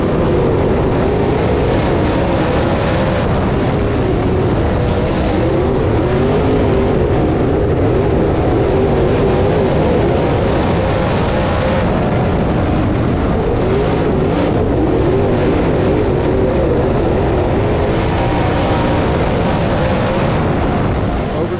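Race cars thundering around Swainsboro Raceway, a dirt racetrack, at the start of a championship race, with a loud, dense, continuous engine roar of a full field running two and three abreast.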